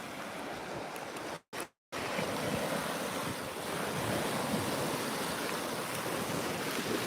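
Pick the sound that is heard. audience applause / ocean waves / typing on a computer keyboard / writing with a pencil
ocean waves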